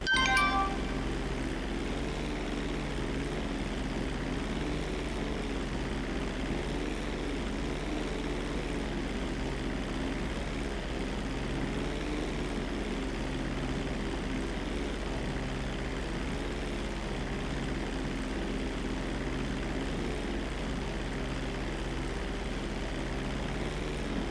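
Light aircraft engine droning steadily on approach before waving off a landing, a constant close propeller hum with no change in pitch and no talk.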